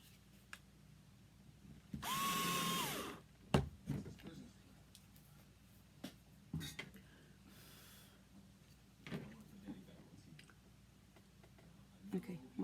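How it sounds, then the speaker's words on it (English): A power drill briefly whirs as it bores a hole during a Cricut centerpiece craft project, a single short burst followed by scattered clicks and handling noises, faint and close. "Just gonna drill a little bit more into that hole"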